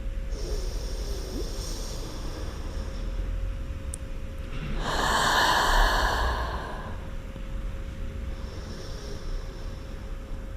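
A person breathes slowly while resting in a yin yoga pose, one long audible inhale and exhale rising in the middle over a low steady room hum, close and soft with no talking.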